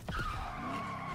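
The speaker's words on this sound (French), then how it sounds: "Voiture qui freine." A car brakes hard in a Kraven the Hunter movie trailer, its tires skidding into a sustained, slowly falling squeal. The sound is short and fairly faint.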